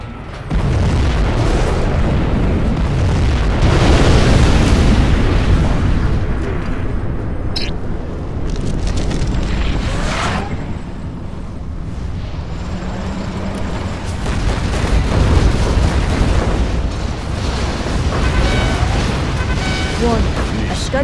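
Scud Storm missile strike in Command & Conquer Generals Zero Hour, a run of heavy booming explosions and bursts rolling on and off, loud and close, mixed with other battle noise throughout.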